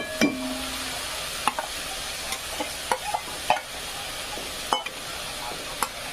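Onion frying in a pan as tomato puree is added: a soft steady sizzle broken by a series of sharp spoon scrapes and taps as the mixture is stirred.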